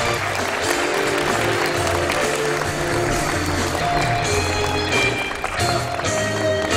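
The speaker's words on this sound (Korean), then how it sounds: "축하의 박수 부탁드리겠습니다." Congratulatory applause at a Korean award or appointment ceremony for Kim Dong-yeon, a steady, dense wash of clapping that holds at full level throughout, with music or hall sound running underneath.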